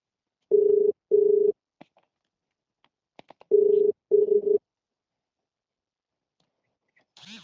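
Telephone ringing on a call, with four even ring bursts in two pairs separated by a pause, a few faint clicks between them, and no voices heard.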